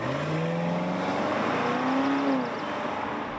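A 2023 BMW 760i xDrive accelerating hard, its engine note rising smoothly in pitch as it pulls, heard steadily and fairly faint, with no talk over it.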